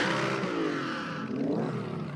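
A 2,000-horsepower drag racing car revs hard nearby at a live track event, a loud, close, sustained engine howl that shifts pitch as the throttle changes, with no voices over it.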